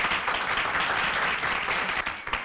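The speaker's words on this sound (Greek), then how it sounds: "Ένα θερμό χειροκρότημα για τον κύριο Ρόμπι." Warm applause from an audience greeting a guest at a dance-judging event, a dense steady wash of many hands clapping that thins slightly toward the end.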